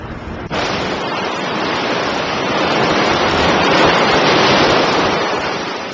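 Heavy surf roars without a break in a high, narrow sea gorge at Hongryeonam hermitage, Naksansa, a dense, rushing wash of breaking waves that swells slightly louder midway and stays close and overwhelming.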